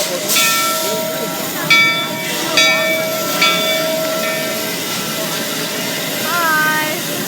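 A steam train on a railway moves past, a steady loud rumble and hiss with several short whistle-like tones rising over it, close and continuous.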